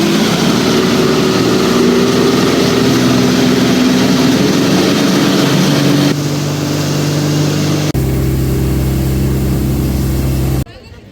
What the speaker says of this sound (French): 250 forces de moteur, ça va y aller sur une pirogue comme on a